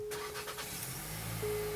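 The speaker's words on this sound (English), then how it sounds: "when you get in the car and start it up" A Nissan Kicks subcompact SUV starts up with a brief click and crank, then settles into a quiet, steady idle hum inside the cabin.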